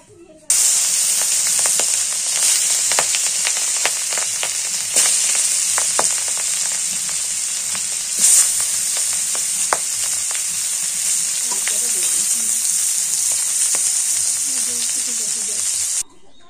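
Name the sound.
fish frying in hot oil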